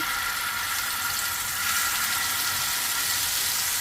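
Secret spice mix sizzling in hot oil on a griddle (tava), a steady, even frying hiss that grows slightly louder partway through, close up and with no talking.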